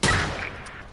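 A single loud, close gunshot in a video game, a sharp blast that decays quickly into a faint tail, with no voices over it.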